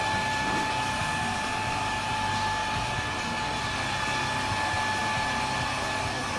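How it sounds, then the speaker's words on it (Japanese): A hair dryer blows steadily on twist-permed hair in a salon, a loud, continuous whooshing drone with a constant high whine throughout, no talking. "乾かすとまた違うんで、一回ドライしちゃいます。"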